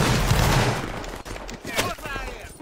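Infantry line in Roblox Waterloo fires a musket volley, a dense crackling burst of many shots up front that tails into scattered pops; voices can be heard in the background.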